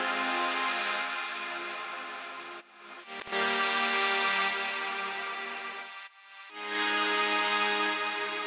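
Sustained main synth chords held for long stretches with short gaps between changes, bright and full, heard dry before any reverb layering, alone without talk.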